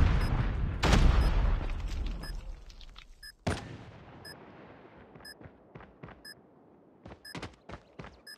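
A frag grenade detonates in a Call of Duty match with a loud, close boom that rumbles away, then a second sharp blast. Scattered gunshots and faint beeping tones follow in the quieter tail.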